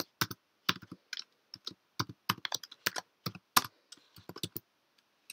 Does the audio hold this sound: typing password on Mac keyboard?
yes